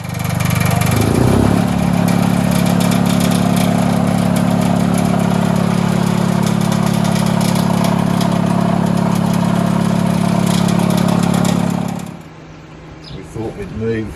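An old stationary pulley engine starts up and runs with a loud, steady low chugging idle, close by, for about twelve seconds before it stops.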